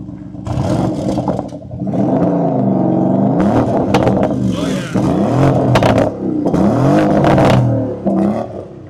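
A 2025 Lamborghini Urus SE hybrid with a twin-turbo V8, stopped and put in reverse, revs hard in repeated bursts. The pitch swells and drops again and again, loud and close, with some wind noise.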